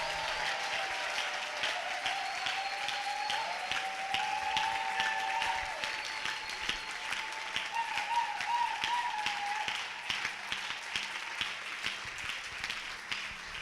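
A church congregation applauds steadily and at length, a dense patter of clapping mixed with voices calling out in acclaim.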